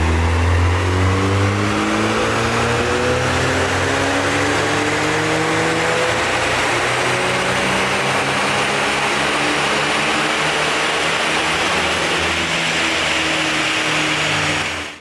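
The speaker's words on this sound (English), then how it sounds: "So it's now on the dyno, and we're going to get a pull to see what we get." A mapped stage 1 Cupra Leon engine revs hard on a dyno, a loud sustained pull climbing steadily in pitch for about fourteen seconds before cutting off abruptly.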